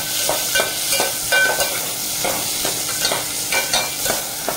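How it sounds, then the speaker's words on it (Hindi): Chopped vegetables and onion frying in very hot oil, a continuous sizzle broken by repeated scraping stir strokes of a spoon in the pan, close and fairly loud, with no voices. "और अब मैं इसमें जो है ये कटी हुई सब्ज़ी, प्याज, इसमें फ्राई करेंगे"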